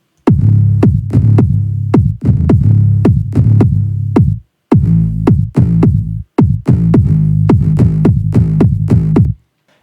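A punchy electronic kick drum hits in a steady four-on-the-floor pattern with a sidechained moombahton bass that ducks under each hit, so the two pump together as one unit, loud and close, with short gaps between phrases.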